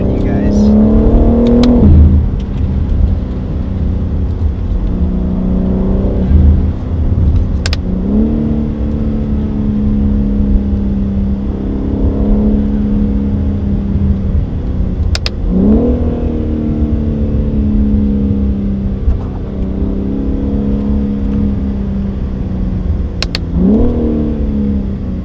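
A car fitted with aftermarket paddle shifters revs repeatedly, its engine note climbing and dropping in roughly regular cycles, with short sharp clicks at each shift and a loud, close exhaust drone throughout.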